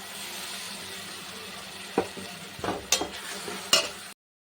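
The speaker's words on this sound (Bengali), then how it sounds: "পেঁয়াজটা ভাজা হয়ে গেছে, এই যে মশলাটা দিয়ে দিলাম।" Ground spices sizzle with fried onions in a pan for a fish curry: a steady frying hiss broken by several sharp stirring scrapes and clinks near the end.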